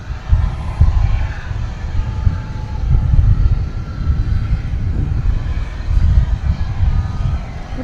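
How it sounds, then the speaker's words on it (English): Jet airplane engine rumbling at DFW Airport, a loud, low, continuous roar that swells and eases as the aircraft turns on the ground, heard from nearby without talk. "Plane just made a turn and burn."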